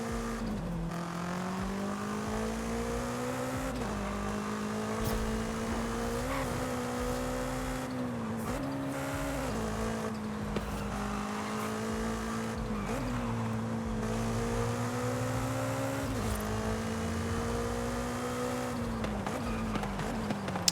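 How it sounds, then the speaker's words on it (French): A BMW M5 F90 engine in the racing video game Forza Horizon 5, heard from an outside view, drones loudly and continuously like a four-cylinder, its pitch climbing and dropping as it shifts through gears, with no talking. "ça fait vraiment un son de 4 cylindres, quoi."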